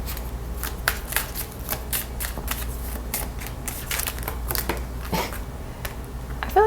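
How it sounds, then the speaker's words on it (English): A deck of tarot cards is shuffled by hand in quick, irregular riffles and slaps, close and crisp, with a few sharper card snaps and no speech. "just by the way the cards are shuffling"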